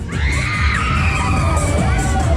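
Crowd of children screaming and cheering on a fairground ride at Funland at the Tropicana, a loud sustained mass of young voices with shrieks and whoops rising over continuous ride noise.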